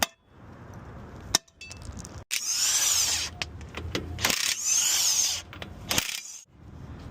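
A small hammer strikes rear brake parts on a GMC 3500 dually truck, giving sharp metallic taps and clanks amid a steady mechanical background, with a few louder bursts of activity.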